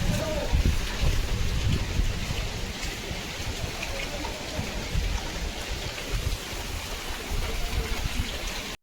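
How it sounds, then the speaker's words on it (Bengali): Heavy rain pours during a storm with lightning, a dense continuous roar of drops beating on surfaces, loud and close, with a rumbling low undertone throughout. "এবার ভারী বৃষ্টি হচ্ছে প্রচুর।"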